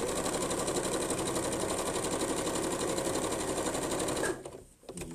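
Sewing machine stitching a seam on a paper-technique bag, a steady, loud, rapid mechanical whir for about four seconds before it stops abruptly and fabric is handled.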